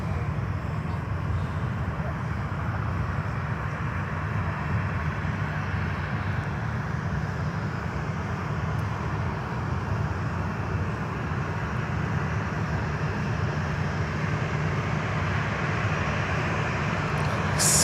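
A Bahamasair ATR 72 turboprop airliner gives a steady, droning engine roar with a low pulsing hum, continuous and moderately close throughout.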